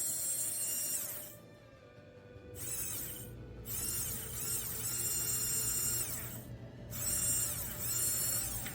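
The windshield washer motor of a Suzuki Samurai runs in a faint electric buzz that cuts out briefly a few times, then resumes in short steady stretches.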